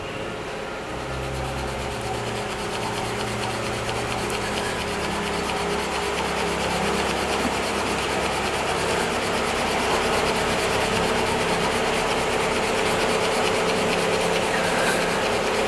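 Wood being sanded on a spinning woodlathe while shaping a synthetic-knot shaving brush handle, a continuous loud abrasive rubbing hiss over the low hum of the lathe, with no talk.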